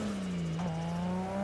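A red Nissan Skyline GTR engine in the Assetto Corsa racing game, a steady droning hum whose pitch dips briefly and then rises, sounding smooth and continuous throughout.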